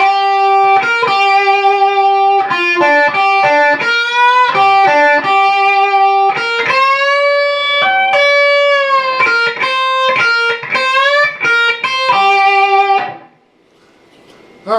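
Distorted electric guitar plays a riff with hammer-ons and string bends, a loud, steady run of choppy phrases that stops abruptly near the end.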